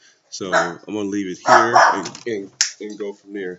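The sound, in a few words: dog barking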